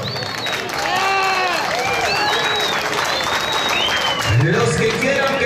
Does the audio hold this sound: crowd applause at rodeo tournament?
yes